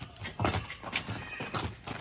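A horse, a pure white mare kept for training, neighs loudly and close by in several shrill, harmonic whinnies that rise and fall across a couple of seconds, with no talk over them.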